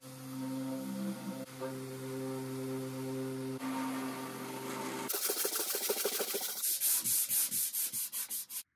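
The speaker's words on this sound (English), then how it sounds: "I came back to sand it" An old high-end wooden table is sanded during a restoration. A low hum gives way to steady, close abrasive rubbing that turns into quick rhythmic back-and-forth strokes, with no voices.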